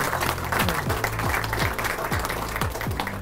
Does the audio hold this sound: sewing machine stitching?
no